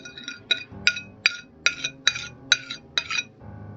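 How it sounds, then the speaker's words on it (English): Metal fork striking and scraping across a plate, producing about eight sharp, bright clinks in a steady rhythm, close and clear with no talking. "You ever scratched a fork on a plate?"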